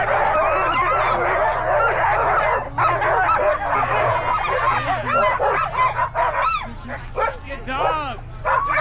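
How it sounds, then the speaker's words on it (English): Excited sled dogs bark and yip loudly and continuously at the Kuskokwim 300 race start, a dense chorus of many dogs close by, with people's voices mixed into the din. "Dogs!"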